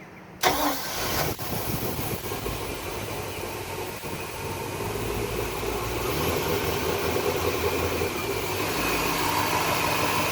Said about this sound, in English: There's the engine running smooth.